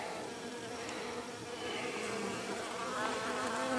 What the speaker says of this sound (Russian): Ага, уже лезут сразу пчелка.